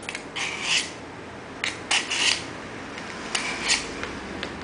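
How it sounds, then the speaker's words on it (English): A knife blade is drawn backwards through the sharpener of a hand-held multi-tool, giving several short, dry rasping strokes in an uneven rhythm, close and fairly quiet. "Holding the multi-tool in your left hand, thumb at the back, knife in your right hand, sliding backwards"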